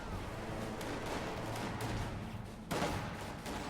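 Gunfire rattles continuously at Grenadier squads in a real-time strategy battle, a steady mid-distance clatter of shots. A sharper burst of fire breaks out near the end.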